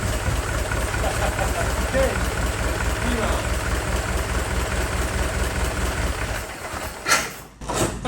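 The engine of a 1914 Ford Model T Speedster runs steadily, with a loud, close, continuous low rumble. It briefly surges and dips near the end.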